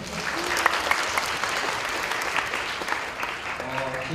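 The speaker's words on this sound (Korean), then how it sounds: "박수 한번 쳐주세요." Audience applause at Unite 2015 Seoul, a Unity developer conference, a loud and continuous crowd of clapping hands lasting about four seconds with no speech.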